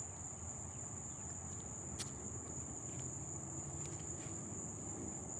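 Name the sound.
crickets chirping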